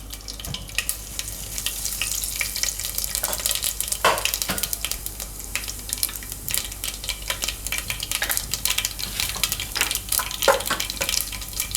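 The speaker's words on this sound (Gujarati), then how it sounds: "અને તેલ આપણું ગરમ થઈ ગયું છે. તો એમાં નાખીશું રાઈ" Mustard seeds and cumin crackle and sizzle in hot oil for a Gujarati vegetable curry, a steady close frying hiss with scattered sharp pops and spits throughout, no talking.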